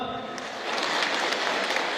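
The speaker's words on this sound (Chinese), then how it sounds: "让我们再次用掌声欢迎他们。" An audience claps at a Yue opera symphonic concert, a dense wash of applause that rises and holds for about two seconds.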